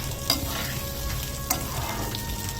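Water poured into sizzling fried spice masala in a pan, producing a loud continuous crackling sizzle with a couple of sharp pops, close and alone.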